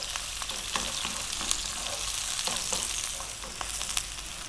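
A cup of onion sizzling hard in a pan on high heat, a loud constant crackle with scraping stir strokes at irregular intervals, close and without talking.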